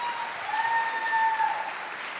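A crowd at a UNR rally for women's sports with Riley Gaines breaks into applause, a steady wash of clapping at moderate distance, with a faint ringing tone running through it.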